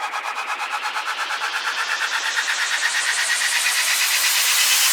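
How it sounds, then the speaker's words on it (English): A rising uplifter effect from Ultrasonic for a colour house build-up, a bright noisy sweep with a fast pulsing flutter that climbs steadily in pitch and brightness over five seconds, loud and alone. "And then we have some uplifters from Ultrasonic."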